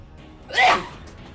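A single sharp sneeze bursts out close by, brief and moderately loud against a quiet background.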